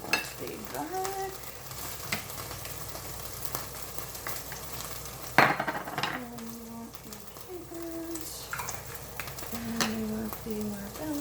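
Garlic sizzling in oil in a pan for a garlic, caper and marbella-base chicken dish, a steady fry with occasional clinks and scrapes of a utensil and a few sharp tonal kitchen beeps.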